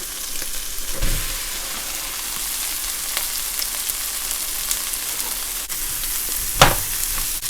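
Rice stir-frying in a wok with egg and Chinese sausage, a steady close sizzle with a couple of sharp scrapes of the spatula, no talk.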